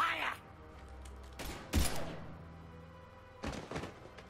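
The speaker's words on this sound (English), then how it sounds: "Now open fire!" Gunfire in Mass Effect 3 comes as several sharp, heavy bursts with a thudding impact among them, spread across the moment at moderate loudness over quiet game ambience.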